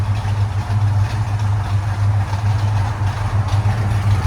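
A Ford Mustang Mach 1 V8 fitted with an H-pipe exhaust idles: a steady, deep, rumbling drone held close and even for the whole stretch, with no revving.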